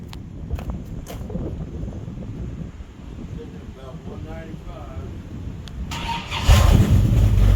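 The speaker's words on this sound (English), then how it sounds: "Did you hear that starter crank over?" A Mopar Pro starter cranks a high-compression 1968 426 Hemi, a steady churning engine noise with brief bursts, swelling louder near the end as the motor catches, with voices nearby.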